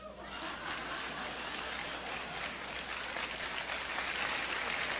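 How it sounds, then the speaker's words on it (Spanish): Audience applause welcoming newcomers at a gathering: steady, dense clapping fills the whole stretch at an even level, with scattered chuckles and murmurs mixed in. "Y por último le vamos a dar un aplauso a los nuevones."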